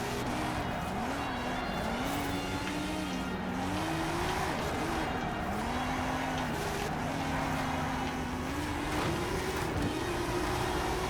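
In a racing video game, the Hot Wheels Goliath car drifts with its engine rising and falling in repeated revving sweeps and tires squealing through the slides, all over a constant rushing background.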